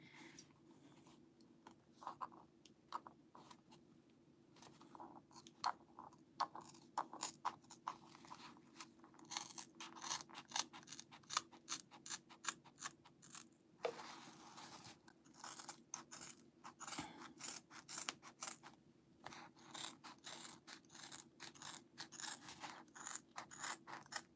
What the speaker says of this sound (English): we're going to kind of snip to like make it fold real nice